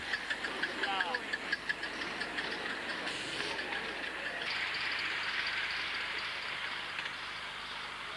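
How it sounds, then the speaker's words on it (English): A 5-inch gauge live steam locomotive named Frederick pulls away carrying five adults on sanded track, its even exhaust beats chuffing steadily at first, then blending into a continuous rushing hiss of steam and running gear. "Each one of the very even beats could be counted as she pulled away."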